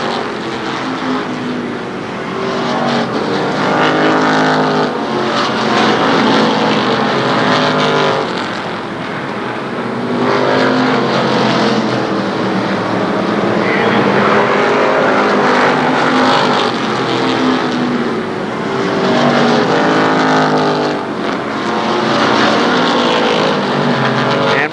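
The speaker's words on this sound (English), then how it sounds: "Third is the 7H of Eric Holton, as we got cars battling and slipping and sliding in the back of the pack." Stock cars race at Shadybowl Speedway in 1995, a dense, loud blend of several engines roaring and shifting pitch as they battle in a pack, sustained throughout with no break.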